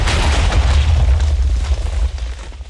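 A TNT minecart missile goes off in Minecraft as a loud, booming blast with a deep rumbling body that holds for a couple of seconds before fading slightly, with no speech.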